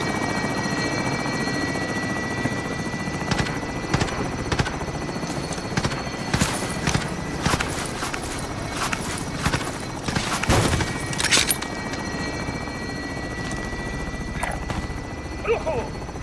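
A helicopter in the video game Call of Duty Warzone keeps up a steady rotor drone throughout, with sharp bursts of gunfire and clattering game effects cutting in over it and a voice speaking at times.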